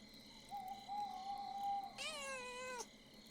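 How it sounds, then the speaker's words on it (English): A small cat in the game Pentiment meows while being petted, giving a soft, drawn-out cry and then a higher, wavering mew, faint over a quiet steady background tone. "Little baby cat noises."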